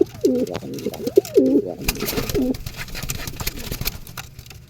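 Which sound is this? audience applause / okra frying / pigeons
pigeons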